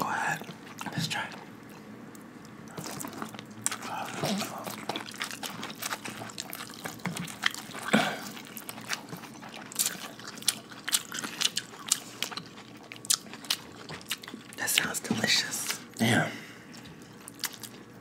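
Close-up ASMR bites and chewing on corn on the cob, crisp crunches and wet mouth sounds recurring irregularly, with whispered talk mixed in throughout.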